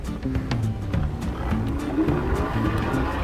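A YOTOBIKE Leopard electric bike accelerates on pedal assist mode 3, giving a steady motor hum that rises in pitch over a few seconds, with wind and road rumble throughout.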